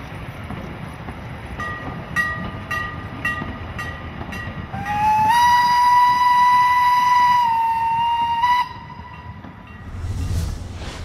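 The Franzburg locomotive on the DEV heritage railway sounds its whistle: a few short toots, then one long sustained whistle blast of several seconds, loud and close, before it cuts off into quieter rumbling.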